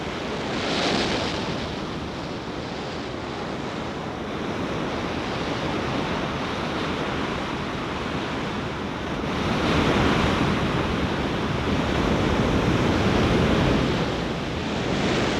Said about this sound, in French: les grandes vagues de l'océan, levées par les vents dominants